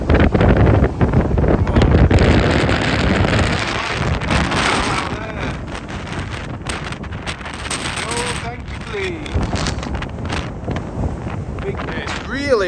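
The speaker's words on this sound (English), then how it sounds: "It's really howling through, really bad." Strong wind roars through a farm shed during a storm, buffeting the microphone in loud, continuous gusts, with some faint creaking and rattling underneath.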